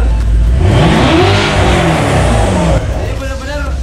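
A Porsche turbo engine rated at 600 horsepower revs hard and loud, its roar rising and falling steadily for several seconds, with people talking over it in a private garage.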